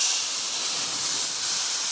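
Mustard paste hits a hot pan for a kakrol (spiny gourd) dish and sets off a loud, even, continuous sizzle, close and steady throughout.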